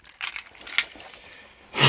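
A bunch of everyday-carry keys jingles close by in short metallic bursts, then a louder rattle at the end, with no talking.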